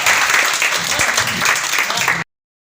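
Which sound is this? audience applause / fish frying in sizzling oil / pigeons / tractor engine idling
audience applause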